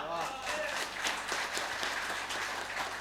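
Audience applause at an award ceremony honoring selected technicians: dense, steady clapping from a crowd throughout, with a voice and tonal sounds over it at the start.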